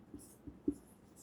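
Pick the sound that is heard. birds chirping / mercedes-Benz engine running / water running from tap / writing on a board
writing on a board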